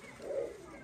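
A single soft, low coo from a pigeon, one of a newly bought breeding pair of male and female pigeons placed in a cage, rising briefly in the middle and heard alone at a moderate distance.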